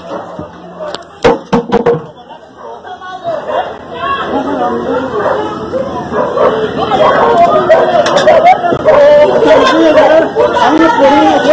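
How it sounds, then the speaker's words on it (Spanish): Many dogs bark and yip on a street during a police encounter, loud overlapping barking that builds into steady chatter with people talking over it. "Muchos perros."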